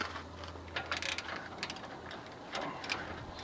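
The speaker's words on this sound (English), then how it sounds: "you need to take the slide pins out, and the slide pins are T45 Torx bits" A ratchet works on T45 Torx slide pins of a rear brake caliper on a Ford Expedition, giving short bursts of quick, close clicking and grinding with brief pauses between them.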